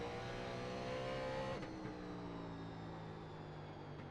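A race car engine in the iRacing sim, a NASCAR 87 on the North Wilkesboro oval, drones loudly and steadily under throttle. A higher whine drops off partway through before the engine note settles back in.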